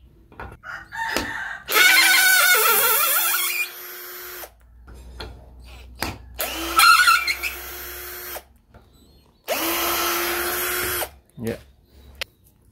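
A Dongcheng DCJZ1202i cordless drill drives a screw into mahogany wood in three separate bursts of high whirring, each a couple of seconds long, with short gaps between; a rooster crows nearby.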